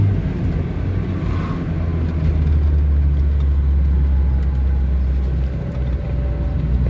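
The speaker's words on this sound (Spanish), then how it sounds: "Sin duda este coche, José María, tiene un sonido rotundo y precioso del motor, ¿eh? Sonido clásico de un R8." A classic Renault 8 engine runs steadily at idle, a continuous low, rounded rumble close by with no talk over it.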